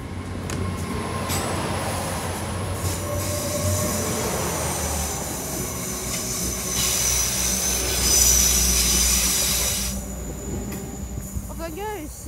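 A train runs through Weston-super-Mare station on the Great Western Main Line, a steady loud rumble of wheels and carriages with some squealing. The sound stays continuous across the whole passage, with faint talk underneath it.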